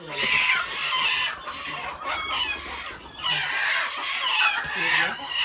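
Chickens cluck loudly and close by in repeated bursts, with a rooster-like call rising among them and a few faint human sounds in the background.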